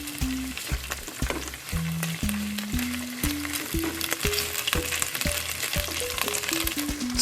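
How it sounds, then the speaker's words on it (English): Garlic and ginger sauté for miso ramen in a hot pan, giving off a constant close sizzle, while a faint stepping tone of varying pitch runs underneath. "I'm just gonna go ahead and let this saute just for a little bit"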